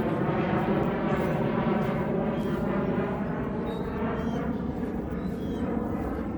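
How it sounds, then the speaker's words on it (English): A jet aircraft passes overhead as a steady, loud broadband roar that fills the whole stretch, with people talking beneath it. "Jet overhead."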